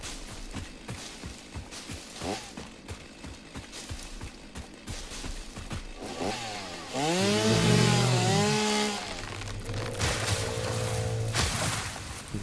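Chainsaw in the video game Satisfactory clearing biomass, with a revving engine whine that rises and bends in pitch midway, over a dense steady background of game noise and scattered knocks.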